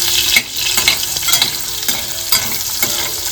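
Soybeans frying in hot oil until golden, a loud, close, continuous crackling sizzle with steady stirring scrapes throughout and no voices.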